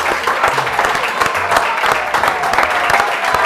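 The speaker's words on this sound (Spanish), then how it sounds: "Un aplauso más fuerte para Darío." An audience applauds a magic trick with a water and newspaper, a dense, lively patter of many hands clapping nearby with occasional louder individual claps over a low crowd murmur.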